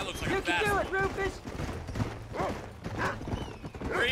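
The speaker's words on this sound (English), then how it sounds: "look at that horse" A horse's hooves clip-clop at a gallop in Red Dead Redemption, mixed with a whinny and distant gunfire, while a player talks over the game.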